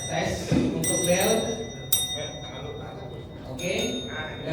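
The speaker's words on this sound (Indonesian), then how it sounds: "Tes untuk bel." Bells are tested before a quiz competition: three bright, ringing electric bell hits sound at separate moments, each decaying over a steady murmur of voices and room chatter in a hall.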